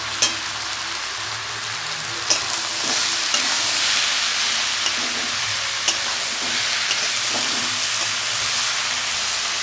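Bottle gourd with salt hisses in a hot pan, a steady close sizzle broken by occasional sharp clinks of stirring, with no talk.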